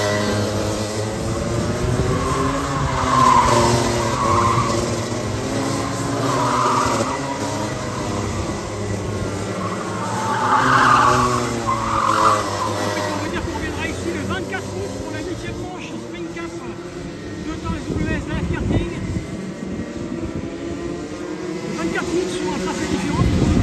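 Two-stroke go-karts racing in a sprint cup C final at the Belval karting track on a sunny day, engines whining and rising and falling in pitch as they pass, heard beneath continuous spoken commentary.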